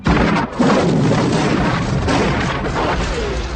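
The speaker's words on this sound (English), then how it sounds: "there's the Cobra assault cannon, which goes boom, and then there's no more anything" Cobra assault cannon from a Terminator versus RoboCop matchup fires with a loud, sustained explosive boom, a dense crashing blast that fills the whole clip with only a brief dip near the start.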